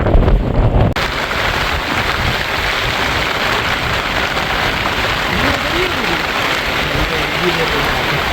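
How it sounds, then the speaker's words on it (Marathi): Sudden heavy rain on a fort trek near Karjat, with a dense, steady hiss of rain and gusting wind buffeting the microphone, loud and continuous throughout, while people talk faintly underneath. "पाऊस सुरू झाला म्हणून पळत आहे ना"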